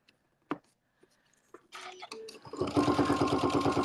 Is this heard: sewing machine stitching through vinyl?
yes